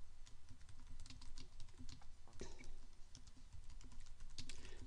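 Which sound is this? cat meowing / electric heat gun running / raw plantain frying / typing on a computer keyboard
typing on a computer keyboard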